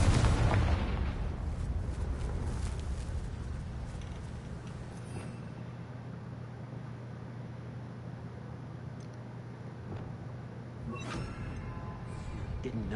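An explosive blast from the Confringo spell in Hogwarts Legacy, a loud burst at the start that rolls into a long, fading rumble and low hum, with another sharper crack near the end.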